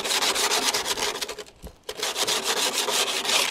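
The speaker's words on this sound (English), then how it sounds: "what I'm going to do is just rub this edge down. I'm trying to take off all the harsh edges, all the burrs of metal" Abrasive paper rubbing down the burred metal edge of a VW T5/T6 barn door window, heard as close, fast, steady scraping strokes that stop briefly midway and then resume just as hard.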